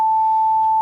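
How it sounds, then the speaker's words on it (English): A pure sine-wave test tone recorded in Pro Tools plays as a single, clean, unwavering electronic pitch at constant loudness, alone and without any voices. "me actually recording a sine wave in Pro Tools"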